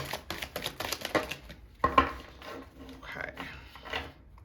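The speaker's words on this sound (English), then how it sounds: "very rusty on the shuffling right now" Tarot cards are shuffled by hand in a string of quick papery riffles and taps, then a few softer shuffles, fairly close and without speech.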